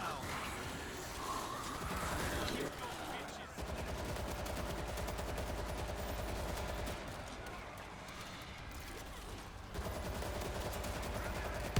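Shotgun and other gunfire in the zombie shooter World War Z crackles in continuous dense bursts under a busy game mix, with players talking in French over it.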